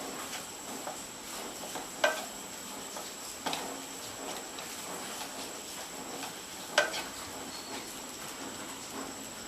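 Chicken fried rice being stirred in a pan: a faint, quiet sizzle with a few sharp scrapes of the utensil against the pan at scattered moments.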